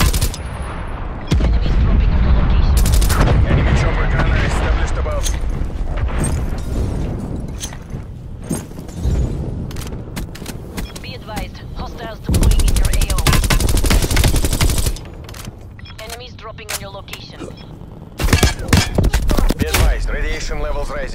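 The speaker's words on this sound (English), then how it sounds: "Artillery targeting detected." Artillery fire and gunfire in the video game Black Ops Cold War arrive as loud, close bursts of rapid shots and booms, broken by quieter stretches between volleys.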